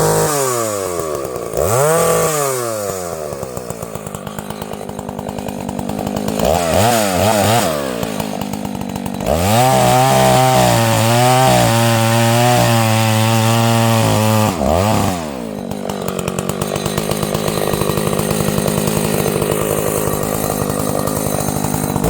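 Homelite 540 chainsaw running close and loud, its engine revving up and down in rising and falling sweeps and holding steady at high speed in the middle.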